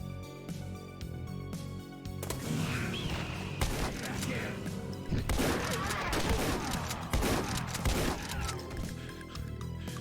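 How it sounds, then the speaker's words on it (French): Gunfire from the Doom II video game, with blasts from the in-game shotgun among rapid bursts and thumps over game sounds, moderately loud, while someone talks now and then. "Ah mais ce shotgun est un plaisir quand même."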